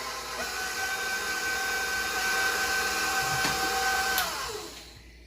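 An electric hand mixer whirs steadily through cheesecake batter, a continuous close motor drone that holds even for about four seconds, then winds down and stops near the end, with no talking.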